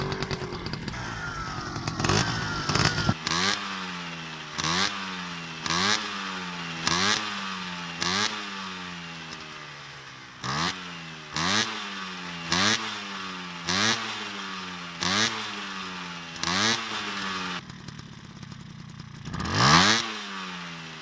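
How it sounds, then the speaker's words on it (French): A two-stroke or four-stroke motorcycle engine with a carburetor awaiting tuning is kicked over and catches, then revs repeatedly in rhythmic, evenly spaced blips of throttle, loud and close, with no talking. "il faut déjà mettre le moteur en route"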